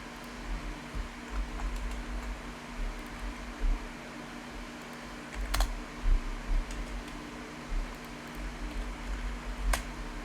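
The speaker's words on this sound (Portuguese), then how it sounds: "vou digitar aqui o endereço IP." Fingers tapping an IP address on a computer keyboard, a steady run of light, close keystrokes with a few sharper clicks over a constant low hum of room noise.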